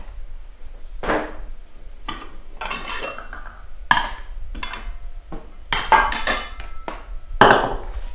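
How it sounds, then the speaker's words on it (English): A knife cuts through a whole cauliflower and its core on a cutting board: several sharp, crunchy chops and knocks at irregular intervals, close and clear, with no talking. "I'm just going to cut right through the cauliflower, and that way you can see the core"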